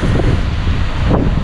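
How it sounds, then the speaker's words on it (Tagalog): Strong outdoor wind in Finland buffets the microphone, making a loud, low, continuous roar with gusty fluctuations over a brief moment. "Mahangin, mga maninay."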